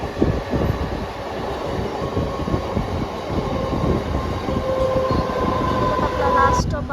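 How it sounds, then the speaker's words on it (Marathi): A fast Mumbai suburban local train rumbles and clatters past close by, a loud, steady roar of wheels and carriages that builds slightly, with a brief squeal toward the end. "सो गाईज बघा फास्ट ट्रेन आहे चालली."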